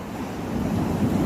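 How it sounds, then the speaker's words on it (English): Ocean waves and surf wash in a steady, broad roar mixed with wind buffeting the microphone, with no voices over it. "the ocean."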